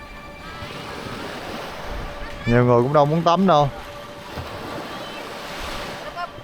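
Ocean surf washes continuously onto a beach at sunset on Nusa Penida, Bali, a steady rushing wash with some wind, and a voice speaks briefly over it.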